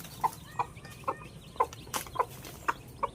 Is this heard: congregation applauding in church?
no